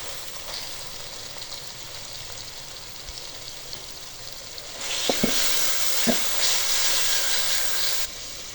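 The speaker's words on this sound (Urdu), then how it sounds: "3 سے 4 منٹ تک مسالے کو بھون لیں گے۔" Chopped green chilies and tomatoes fry in spiced masala in a pan for aloo matar pulao, giving a steady sizzle that grows louder partway through, with a few spoon-stirring knocks close by.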